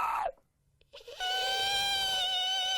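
A voice mimics a creature with a long, piercing screech that holds steady and loud after a short silence, with a strained, wavering tone.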